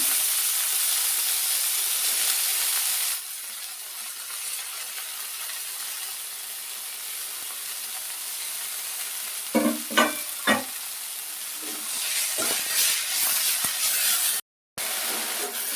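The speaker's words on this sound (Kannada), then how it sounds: "ಇದನ್ನು ಚೆನ್ನಾಗಿ ಹುರ್ಕೊಳ್ಬೇಕು ಹುರಿದಷ್ಟು ತಂಬ್ಲಿ ಟೇಸ್ಟ್ ಆಗುತ್ತೆ" Chopped surali kudi shoots frying in a pan for tambuli, a steady hiss of sizzling with a few sharp stirring scrapes and clatters partway through, close and fairly loud.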